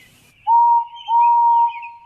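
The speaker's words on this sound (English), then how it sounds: "Yes, I am," whistled Henry" Steam engine whistle used as a sound effect: two clear, steady whistle blasts, a short one followed by a longer one, loud and close, with no talking.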